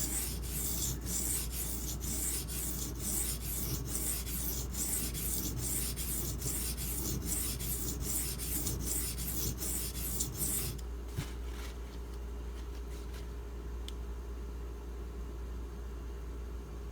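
A Benchmade 770 knife blade is drawn across a Spyderco ceramic sharpening stone in steady, evenly spaced scraping strokes for about ten seconds, then the strokes give way to a few fainter scrapes and a quiet room.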